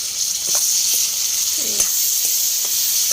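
Steady, loud sizzling of duck gravy frying in a pan, with a few soft clinks of a utensil scattered through.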